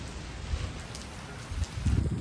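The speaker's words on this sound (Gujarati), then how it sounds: "ગાજે છે વરસાદ." Heavy rain pours down during a thunderstorm, a steady close hiss with heavier low thuds swelling toward the end, and no voices.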